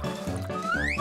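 Cartoon sound effect of a pregnant woman's water breaking: a loud, continuous liquid gush and splash lasting about a second, with a rising bubbly tone near the end and faint music underneath.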